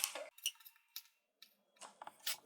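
A knife slices garlic into thin pieces on a board, a few sharp short taps and cuts spaced irregularly, close and fairly quiet with no talk.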